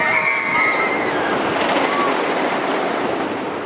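A roller coaster train at Lagoon amusement park in Farmington, Utah rumbles steadily along its track with a continuous clattering roar, loud and close, with a brief high squeal near the start.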